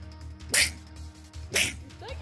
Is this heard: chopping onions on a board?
no